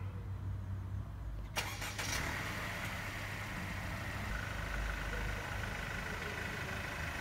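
A 2019 Mercedes E200 AMG started by remote in a Tesco car park, turning over with a sharp crank and then settling into a steady low idle, heard from a short distance with brief talk underneath.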